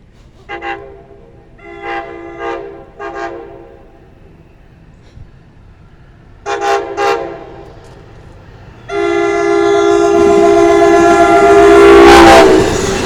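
Passing train with a horn: several short honks at a distance, then a louder double blast, then the horn sounds long and loud over a rising rumble as the train draws near.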